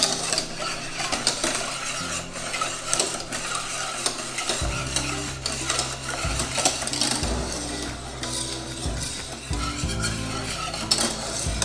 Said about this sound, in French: il faut vraiment bien remuer